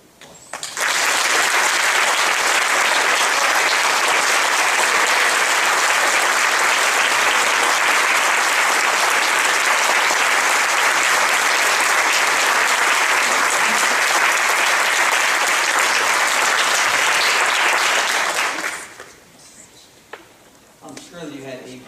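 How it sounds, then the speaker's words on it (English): Big round of applause from a courtroom audience honoring mock trial competitors at a Los Angeles County high school final, loud and sustained clapping for about eighteen seconds before cutting off, followed by a voice speaking. "So please stand, face the audience for a big round of applause."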